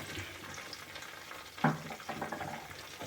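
Mustard and coriander seeds roasting in a pan alongside green chillies, making a soft, continuous frying crackle with one louder scrape midway and a few small pops after it.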